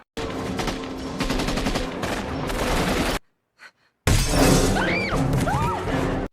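Rapid automatic gunfire bursts loud and continuous in a horror film scene, broken by a short silent gap before a second loud volley with shattering crashes and high shrieking creature-like cries.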